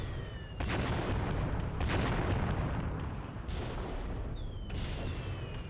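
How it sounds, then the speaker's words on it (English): Artillery shells landing in the war game Graviteam Tactics: several heavy booming impacts spaced a second or so apart, distant and rumbling, each trailing off into a dull roar. "Where's this artillery landing?"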